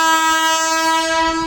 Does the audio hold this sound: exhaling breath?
no